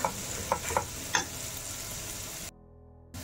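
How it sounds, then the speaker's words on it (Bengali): Breakfast food deep frying in oil gives a steady sizzling hiss broken by a few sharp clinks and stirs, then drops to near silence for a moment before the sizzle comes back. "ডিপ করে ফ্রাই করতে হবে।"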